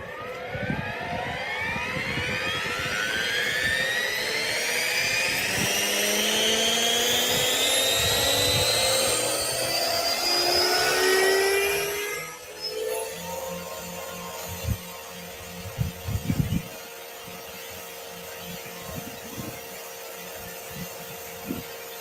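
An RC aircraft motor warms up during spring flying, a loud, steady electric whine that climbs in pitch for about twelve seconds, then cuts off, leaving quieter thumps and handling noises.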